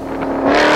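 A Shelby Super Snake-R Ford Mustang, 850 hp, built on the Mustang Dark Horse, roars briefly and loudly up close, its engine note rising in a quick rev that holds strong through the short burst.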